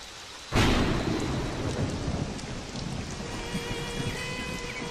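A sharp crack of thunder breaks in, then steady heavy rain pours down and patters on surfaces.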